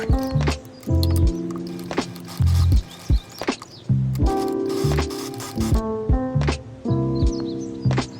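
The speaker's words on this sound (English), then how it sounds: "Sew the sleeve seam allowance that you sewed before with the lock sewing machine." An overlock sewing machine stitches in repeated rapid bursts, with mechanical whirring runs separated by short pauses and clunks.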